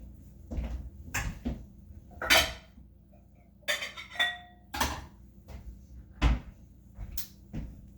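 Kitchen cupboard doors open and shut while a bowl is taken out, giving several sharp knocks and thuds with a light clink of dishes, fairly close and spaced over a few seconds.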